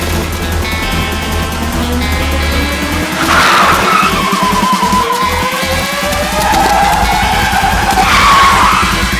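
A car pulling away hard with tires skidding and squealing, a loud close engine roar under long rising and falling screeches that swell twice.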